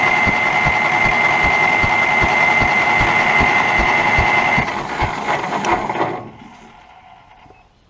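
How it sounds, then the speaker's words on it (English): Starter motor on an old Case backhoe cranking when jumpered, a loud close rhythmic chugging that runs steadily for about six seconds before winding down and stopping, with no talk. "We'll jumper the starter motor and see if she's sparking."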